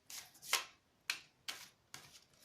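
Oversized tarot cards are shuffled by hand in a quiet room, giving five or six short crisp riffles and slaps spaced about half a second apart.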